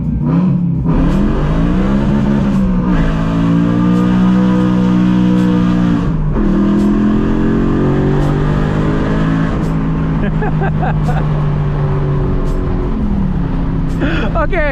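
A BMW E92 M3 launches and revs hard on a rain-soaked road, its engine note rising and falling through loud, sustained pulls, up close from inside the car with voices talking over it.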